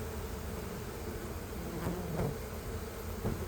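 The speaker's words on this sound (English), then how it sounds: "They're fanning the queen's pheromone." Honeybees buzz and fan their wings at a beehive gourd, spreading the queen's pheromone. A dense, continuous droning hum fills the scene close by, with a few individual bees passing nearer, and no voices.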